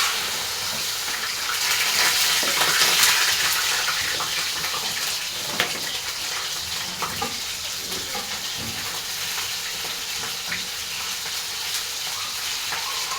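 Alexandrian-style liver fries in hot oil with a loud, continuous close-up sizzle and crackle that swells and then settles into a steady hiss, with no talking.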